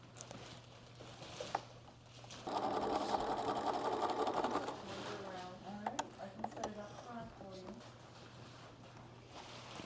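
A sewing machine runs a short, steady burst while stitching a seam on a simple nine patch quilt block, followed by softer handling noises and a voice talking.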